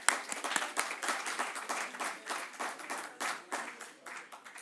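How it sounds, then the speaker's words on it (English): An audience at a social business forum breaks into sustained, dense applause, many hands clapping together in rolling waves for several seconds with no talk. "So a big round of applause for everyone."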